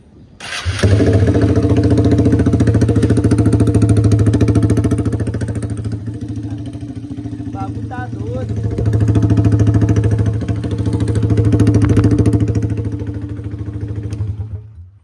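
A Honda Start 160 motorcycle with a straight pipe starts and idles outdoors, a loud, close, rough throbbing rumble that holds steady with slight swells in revs for about fifteen seconds.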